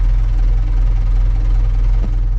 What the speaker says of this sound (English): So we'll turn the engine on.